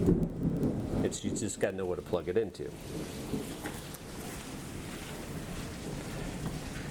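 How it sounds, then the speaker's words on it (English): Someone talks close by over a steady rushing wash of heavy rain outside, with a low rumble of thunder in the background. "If you guys hear it raining cats and dogs outside with lightning"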